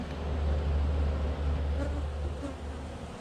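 Honeybees buzz continuously and close up during an autumn hive inspection, a dense steady drone with individual bees passing nearby, no speech.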